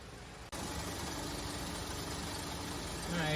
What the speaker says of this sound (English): You should have the engine running at this time and the transmission in park.